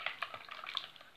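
Spoon stirring a liquid mixture in a bowl to dissolve yeast for a pastry dough, quick light clinks and swishes in an irregular rhythm, close and quiet.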